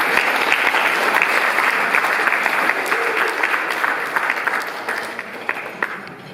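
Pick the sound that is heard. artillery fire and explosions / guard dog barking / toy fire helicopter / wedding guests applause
wedding guests applause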